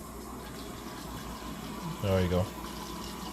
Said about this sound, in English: see if we get water out of the water dispenser